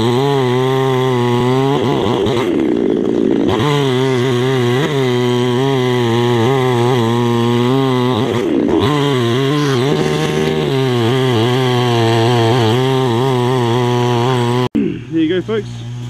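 A Baumr chainsaw roars steadily while cutting a tree, its loud engine holding high with brief dips in pitch as the chain bites, before it cuts off abruptly near the end.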